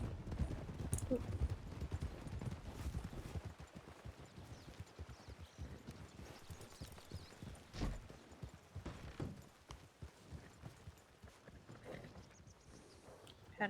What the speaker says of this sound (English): Everyone in town's gonna hear our hooves coming now.